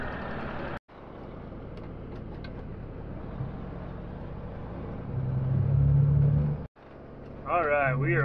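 A truck pulling a flatbed loaded with alfalfa hay drives down the road, heard as a continuous low engine rumble that swells louder near the end, broken by two short cuts.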